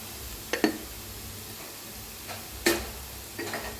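A chili stuffing spice mix of turmeric, red chili powder and sabzi masala roasts in a pan with a soft, steady sizzle, punctuated by several sharp clinks and scrapes of a utensil stirring against the pan.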